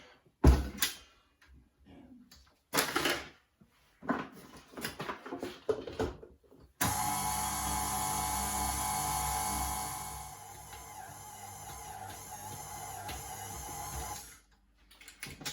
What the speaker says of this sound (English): we're just going to mix that in the food mixer with a dough hook